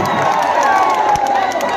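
Dense crowd cheering and shouting at an outdoor political election rally, a steady loud roar of many voices with scattered clapping throughout.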